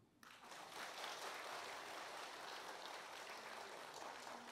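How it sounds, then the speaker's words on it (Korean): A church congregation at a Korean worship service bursts into sustained applause, a dense wash of many hands clapping steadily in a large room with no voices over it. "박수."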